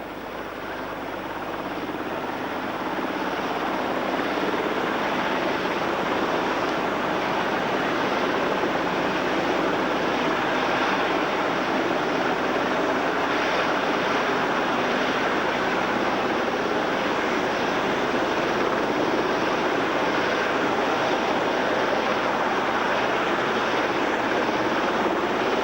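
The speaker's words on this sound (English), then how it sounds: "Lifeboat comes in at the 20 past position on the starboard side of the helicopter" A rescue helicopter hovers over an RNLI D-class inshore lifeboat at sea around 1988, its rotor and engine a loud, steady, continuous roar without pause.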